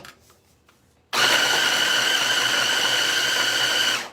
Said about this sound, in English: I'm going to add the motor on, and then we're just going to chop this all up